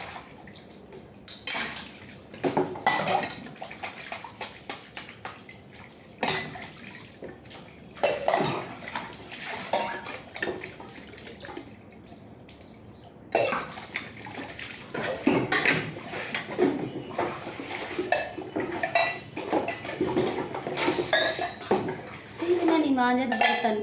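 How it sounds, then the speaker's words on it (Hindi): Dishes clatter and scrape as they are scrubbed with white soap and rinsed, with steady clinks of metal pots and utensils and splashing water throughout. "बर्तन मांज के मंजन कर रहे हैं।"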